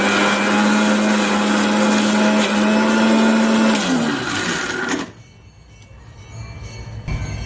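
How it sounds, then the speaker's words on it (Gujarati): A kitchen mixer grinder whirs steadily as it blends bottle gourd, a loud continuous motor drone that winds down and stops partway through, leaving quieter room noise afterward. "તો હવે આપણે પીસી લઈએ."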